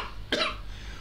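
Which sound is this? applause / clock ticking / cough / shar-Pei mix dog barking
cough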